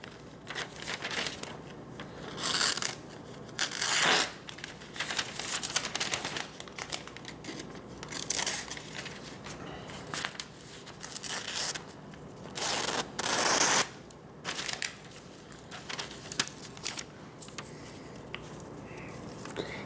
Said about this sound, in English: just cut through some phone book paper, see how it does